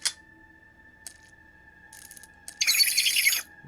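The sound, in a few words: train creature sound in an SCP animation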